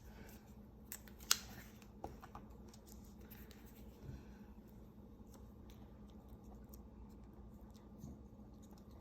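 Scissors fussy cutting paper in a quiet room for a card-making project, heard as a few faint, sparse snips and clicks over low background hiss, with no talking.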